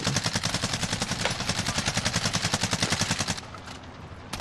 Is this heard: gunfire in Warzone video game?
yes